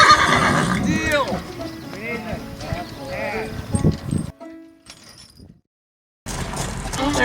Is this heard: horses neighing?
yes